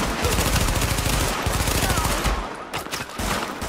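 Rapid automatic gunfire in Tom Clancy's The Division, a loud run of close bursts during a firefight that tapers briefly and resumes, with no talking over it.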